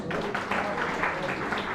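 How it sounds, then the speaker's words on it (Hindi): A live audience at a poetry gathering gives a poet a short burst of loud, continuous clapping that fills the whole brief moment. "इनके लिए जोरदार तालियां।"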